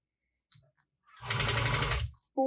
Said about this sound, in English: top stitching this at that eighth of an inch seam allowance